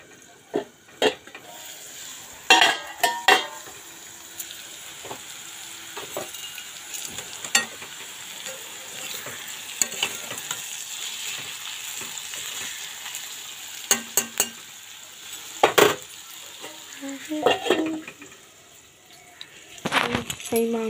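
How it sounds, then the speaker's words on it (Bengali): Peas, potatoes, cauliflower, beans and carrots fry in a kadai with a moderate sizzle, broken by sharp metal clanks and scrapes of a spatula against the pan at irregular moments. "কড়াইশুঁটি, এগুলো দিয়ে একটা ভাজা করছি দেখো।"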